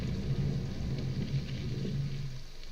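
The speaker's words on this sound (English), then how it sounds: "So you hear earthquake, you got rain going" Rain ambience in a self-made video game, a low steady wash of falling rain with a faint rumble underneath, continuous and even throughout.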